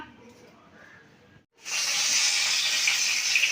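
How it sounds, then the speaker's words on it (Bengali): Katla fish frying in hot oil in a home kitchen, giving a loud, steady sizzle and crackle that starts abruptly after a brief quiet stretch of lower, softer background noise and then holds strong to the end. "মাছটা ভেজে নিচ্ছি"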